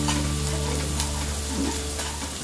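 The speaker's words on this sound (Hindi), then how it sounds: "लहसुन का कच्चा फ्लेवर जाने तक हम इसे फ्राई करेंगे" Crushed garlic and chopped green chili fry in oil in a pan, a loud, continuous close-up sizzle with a steady hum beneath and no talking.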